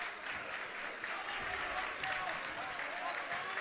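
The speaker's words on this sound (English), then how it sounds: "And the students with the applause going on right here." Students applaud at a state playoff high school basketball game between Pequannock and Elmwood Park, a steady broadband clapping filling the gym, heard under a play-by-play announcer's voice.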